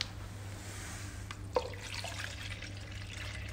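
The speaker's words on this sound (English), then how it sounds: "now we inject the water." Water poured into the tank of a cryolipolysis slimming machine, a quiet continuous trickle and splash under a low steady machine hum, with one brief knock midway.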